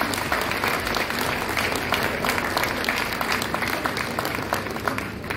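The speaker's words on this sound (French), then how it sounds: "Vous pouvez les applaudir." Large crowd of seniors at a municipal banquet in Lourdes applauding the town staff, a dense, sustained roar of clapping that stays loud and steady throughout, with faint crowd murmur underneath.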